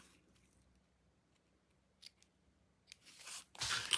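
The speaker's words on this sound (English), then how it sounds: "see which tooth is further out, and put a little snip on that side." Scissors give a few quick snips on the end of zipper tape while a quilted pouch is being sewn. The cuts are short, crisp and close, and the loudest comes near the end, with no talking.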